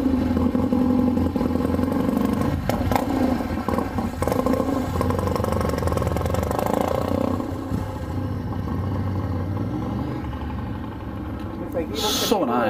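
A motorcycle engine runs steadily throughout on a winter ride at Tomales Point, California, with loud, continuous low rumble and wind noise, while people talk over it.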